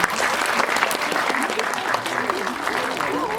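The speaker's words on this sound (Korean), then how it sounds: "큰 박수 부탁드립니다." A burst of audience applause at a film screening talk in a cinema, steady clapping from a crowd filling the whole moment, fairly loud and close.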